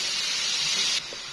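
Onions hit hot oil in a pan with a sudden loud, close hiss that holds for about a second and then drops away sharply.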